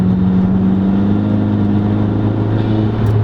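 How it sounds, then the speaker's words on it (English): A 2005 Volkswagen GTI pulling hard in third gear, its engine holding a loud, steady mid-pitched drone that rises slightly as it accelerates, heard close from inside the car. "I want to do a third gear roll with that"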